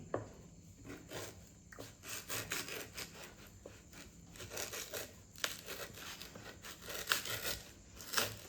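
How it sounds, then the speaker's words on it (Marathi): A knife slices through mangoes being cut into pieces for pickle, producing repeated close rasping, scraping strokes in an uneven rhythm, with soft knocks between cuts. "आता हे आंबे आहेत ते मी पहिल्यांदा कापून घेणार आहे तर आंबा आहे तो कापून घेते"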